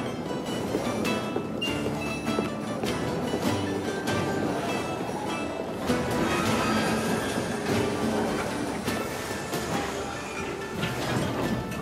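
A train in the video game Assassin's Creed Syndicate rumbles steadily along the tracks with rattling carriages and metallic clatter, a dense continuous roar with no talk over it.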